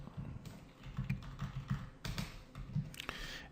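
Keystrokes on a computer keyboard while writing PHP code, an irregular patter of soft close taps with a few sharper louder strikes, over a faint background hum, no voices.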